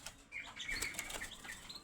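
A pelatuk bawang (three-toed woodpecker) kept for sale flutters its wings in a short, soft burst of flapping, mixed with a few faint chirps from nearby.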